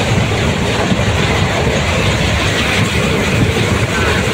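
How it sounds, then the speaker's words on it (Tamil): A train between Nagapattinam and Karaikal rushes past at full speed, a loud continuous roar with rattling wheels and rumble that never lets up. "ஃபுல் ஸ்பீடுங்க ட்ரெயின், காட்டு வேகம்."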